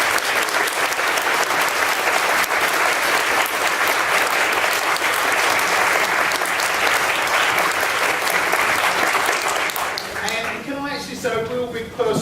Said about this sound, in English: Can we give all these people a big round of applause?